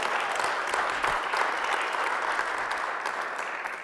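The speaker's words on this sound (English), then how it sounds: "that's worth applauding" A college audience at an innovation event breaks into steady applause, a dense wash of many hands clapping at even loudness for a few seconds before easing slightly.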